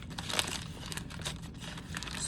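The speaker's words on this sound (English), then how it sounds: "So you have to crumple it first" Paper crumpled by hand while making an art journal collage, a close, continuous crinkling and rustling with a few sharper crackles, no talking.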